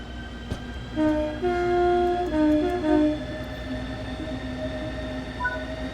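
A Southeastern Class 395 Javelin high-speed train in Train Sim World 5 runs with a steady rumble, while sustained tonal whines and horn-like notes rise and shift over a few seconds before settling back into the running drone.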